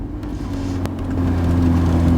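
A Ferrari 488 Spider engine pulling away, a steady low throaty drone that swells louder over a couple of seconds, close and alone without talk.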